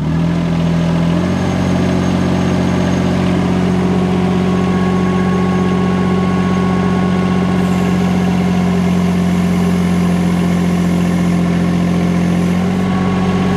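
A mini excavator fitted with pallet forks runs its engine with a steady mid-low drone that steps up slightly as throttle is added, continuous and close throughout.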